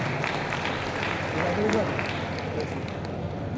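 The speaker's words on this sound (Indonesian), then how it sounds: "Tepuk tangan untuk Surabaya" An audience at a Muhammadiyah leadership talk in Surabaya applauds, a steady wash of many hands clapping in a large hall, with voices in the room underneath.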